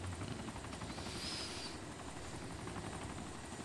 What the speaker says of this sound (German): Nee, unser Heli.